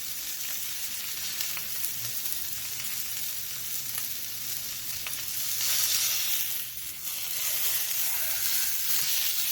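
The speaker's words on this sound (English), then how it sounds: "We let it fry for just a few minutes." Beef steak for black pepper beef frying in a pan, a steady close sizzle and crackle running the whole time, with a slight swell of hiss partway through and no voices.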